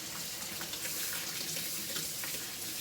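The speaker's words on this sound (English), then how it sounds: "And then we'll use the cold water. And I'm just going to rinse them with my hand." Cold tap water runs steadily into a strainer, rinsing vegetables for homemade salsa by hand, a close continuous splashing hiss with no talking.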